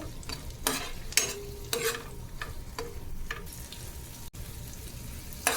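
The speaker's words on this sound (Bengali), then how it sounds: "মাংস মশলা সবগুলো ভাজা শেষ" Meat with spices being stir-fried in a pan, heard as a steady close sizzle broken by repeated scraping strokes of a spatula, with no talking.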